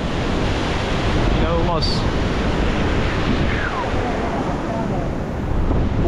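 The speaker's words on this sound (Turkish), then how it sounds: "Ya gördüğüm en güzel renkte şelalelerden biri." A powerful rushing waterfall in southern Chile near Osorno volcano roars as a steady, loud wash of noise throughout, with a brief spoken word partway through.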